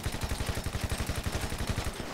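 Rapid automatic gunfire in the video game Call of Duty, a fast even burst of sharp shots in steady rhythm, loud and close, with no voices.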